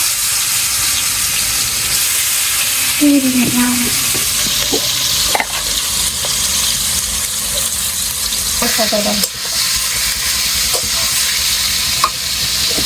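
Meat frying in a wok gives a loud, steady sizzle and hiss that continues throughout, with water being added and occasional stirring clinks and scrapes, close by, with no talk.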